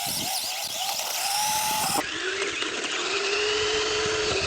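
Lishi Toys L6055 RC toy car with a motor on each wheel drives continuously, its steady high electric whine loud and close, the pitch dropping a notch midway as it keeps running.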